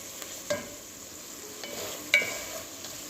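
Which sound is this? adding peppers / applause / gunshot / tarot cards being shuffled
adding peppers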